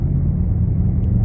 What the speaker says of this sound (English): And there's a car making a turn off.